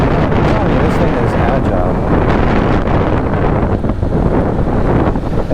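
Riding a used 2019 Kawasaki Ninja 650 motorcycle, with steady, loud wind rush buffeting the microphone throughout and the engine largely buried beneath it.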